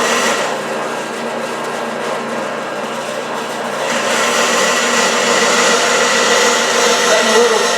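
Sears Craftsman 14-inch band saw running steadily, a continuous broadband whir and blade hum that grows slightly louder about halfway through, with no talking.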